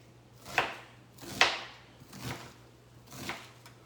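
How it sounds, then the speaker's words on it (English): A knife slicing an onion on a board in four separate soft cuts spaced about a second apart, close but fairly quiet, with a low hum beneath and no talking. "I'm going to put about a quarter of this onion in there. We'll just slice that up."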